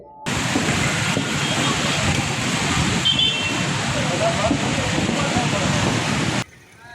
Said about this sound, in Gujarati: પાણીની ટાંકી ઓવરફ્લો થતા હજારો લીટર પાણી રોડ પર વહી ગયું